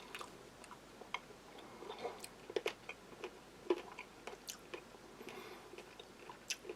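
Hard, crunchy pork rinds from a Taiwan army ration are chewed with irregular sharp crunches and clicks, quiet and close, with no talk.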